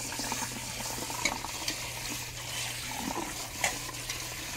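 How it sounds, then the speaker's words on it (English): Tap water runs steadily into a sink as salted onions are rinsed, a continuous close hiss with a few soft clinks and splashes, and no voices. "now I'm gonna give them a quick rinse to help get some of that salt off before we start frying"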